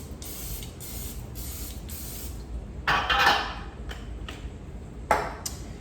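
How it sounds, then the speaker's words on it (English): Cooking spray hisses onto a donut pan in two close bursts, the first longer, with light metallic clinks from handling the can and pan before and after. "We're going to go ahead and spray our donut pan"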